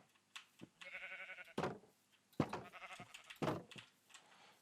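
Blocky Minecraft sheep give a run of bleats, some drawn out and wavering and others short, repeating every second or so at moderate volume with no voices over them.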